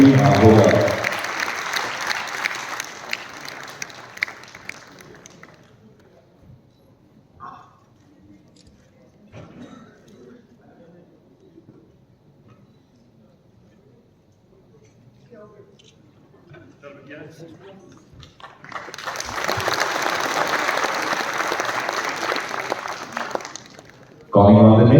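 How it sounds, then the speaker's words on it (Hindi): An audience applauds students at an award ceremony. Strong clapping opens the scene, then drops away while someone speaks over the microphone, and a second loud round of clapping comes near the end. "अगर खूबसूरत तालियां बजती रहे इन सारे बेहतरीन टैलेंटेड स्टूडेंट्स के लिए"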